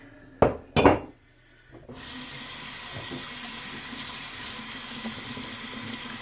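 Two short knocks, then a tap opens and water runs steadily into a sink as a shaving brush is rinsed under it, close and continuous.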